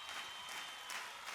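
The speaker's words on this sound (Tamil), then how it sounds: "கைதட்டல்களும் அரங்கமே குலுங்கும் அளவுக்கு இருந்தது" Arena audience applauding loudly, a dense steady wash of many hands clapping with faint crowd noise, sustained throughout.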